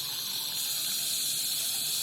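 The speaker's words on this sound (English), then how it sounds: "So we need to add the cold water." Cold water pouring steadily onto pre-cooked lobster tails, a continuous hissing gush that stays loud and close for about two seconds with no voices.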